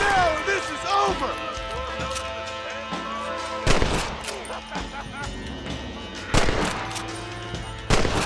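Gunfire in Red Dead Redemption on PS5: several sharp, loud shots crack out at intervals over a busy game soundscape, with a voice speaking between them.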